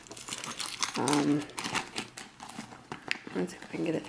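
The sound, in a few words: keys and keychains jangling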